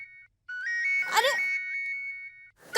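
A phone ringtone plays a bright, steady electronic melody of sustained repeating tones for about two seconds, briefly overlapped by a short voice in the middle, before cutting off.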